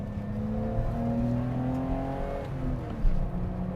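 A BMW 325i E30 engine revs up in second gear during a clutch kick, heard from inside the car as a steady rising drone with a brief bump near the end and no talk.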